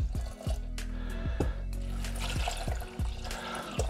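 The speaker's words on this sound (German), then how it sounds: "wir werden sie jetzt mit Wasser bedecken" Water pours and splashes over orange and lemon peels in a pot or bowl, a close, steady liquid rush broken by repeated low thumps and sloshes.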